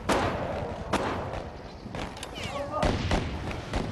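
In an SAS special forces reenactment, several sharp gunshots crack out at uneven intervals, sounding loud and close over a background of rustling and movement.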